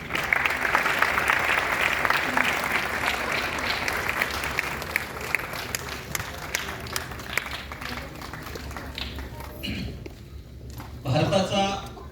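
An audience at a birthday celebration event applauds in a dense, sustained wash of clapping that gradually thins and fades, with a voice speaking over it.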